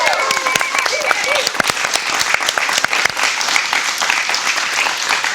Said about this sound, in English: Can we already get a round of applause for them?